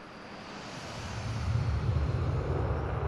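Simulated jet aircraft powering up during a virtual airshow pass in Microsoft Flight Simulator, a steady broad roar that swells louder halfway through and holds, with no voices.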